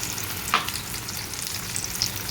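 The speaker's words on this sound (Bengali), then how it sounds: "এবার দিয়ে দিচ্ছি সেই ব্লেন্ড করা পেঁয়াজ" Blended onion paste hits hot oil and sizzles steadily in a pan, with a short sharp burst as it goes in and continuous frying afterward, no talking.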